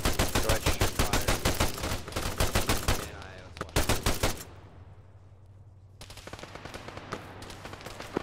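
Loud bursts of automatic gunfire during a military operation push toward a compound: rapid repeated shots in close volleys, a brief lull with a lower rumble, then more sustained firing resuming.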